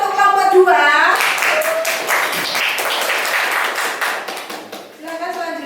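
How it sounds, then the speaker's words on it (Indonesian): Classroom applause for a presenting student group: a few seconds of dense hand clapping, close and loud, with voices talking just before and after it. "Tepuk tangan untuk kelompok 2"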